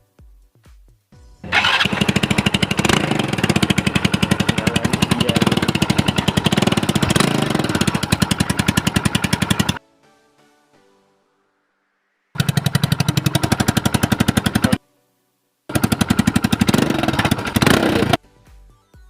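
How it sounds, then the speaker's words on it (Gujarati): A Hero Splendor motorcycle with a modified silencer starts and roars with a loud, rough, popping exhaust, cuts out, then fires up twice more in short bursts. "બાઇક ચાલુ કરીને ચેક કરી જોઈશું કે કેવો અવાજ આવે છે"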